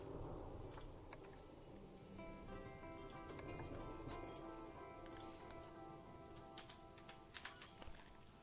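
Rain and rumbling thunder in the zoo-building game Planet Zoo, a steady hissing downpour with scattered drips, a constant bed of weather sound throughout with brief louder patters near the end.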